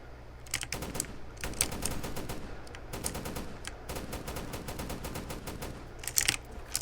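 Rapid automatic AK-47 gunfire in the video game Ancient Warfare 3 rattles in sustained bursts, dense and mechanical, with a few louder cracks near the end and no speech.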